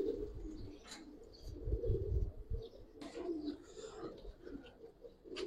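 Giribaz pigeons in a loft coo softly in low, rolling murmurs that repeat throughout, with faint chirps and rustling nearby and no talking.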